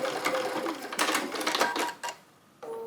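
A sewing machine back stitches a bag in short close bursts of rapid stitching, separated by brief pauses and a small click.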